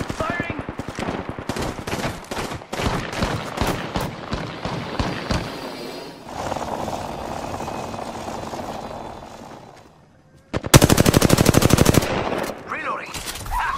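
Bursts of rapid automatic gunfire ring out in an Apex Legends firefight, loud and close, with sustained rattling volleys, a short pause, and another sharp intense burst near the end.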